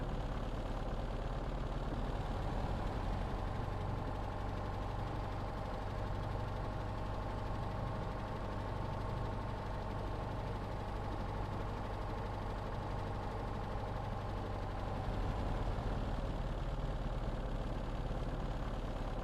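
A Lockheed P-38 Lightning engine idles steadily in Microsoft Flight Simulator, giving a low, even rumble with a faint knocking texture that stays quiet and unchanged throughout.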